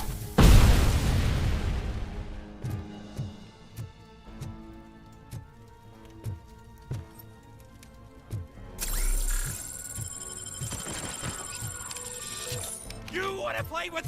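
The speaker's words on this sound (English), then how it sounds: "Граната!" A grenade blast in the RoboCop: Rogue City video game: one loud, booming explosion near the start that fades out over a couple of seconds, followed by scattered sharp impacts and game effects, with a voice speaking over them.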